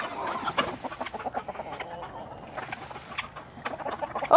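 Chickens in a barn cluck and chatter in a steady, overlapping flock, with sharper squawks near the end; nearby and moderately loud, no talking.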